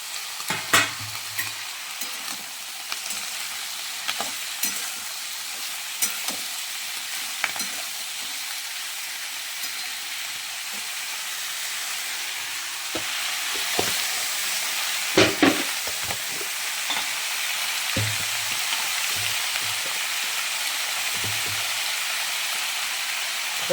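Sliced capsicum and onion sizzle steadily in a hot pan with salt, broken by sharp clinks and scrapes of a spatula stirring, close and loud throughout.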